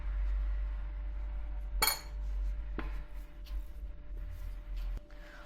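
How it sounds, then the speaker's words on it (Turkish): Salt stirred into soaked green lentils for lentil köfte, with a few sharp spoon clinks against the bowl spaced over several seconds, quiet and near, between soft scraping. "Tuzunu da ekledim ve karıştırdım."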